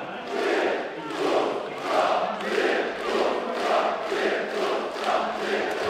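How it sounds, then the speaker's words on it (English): A large esports crowd at the Dota 2 Kiev Major Grand Finals chanting in rhythmic unison, led by one fan, loud regular pulses of voices repeating about every second and a third. "there was a guy who was doing it for the whole crowd"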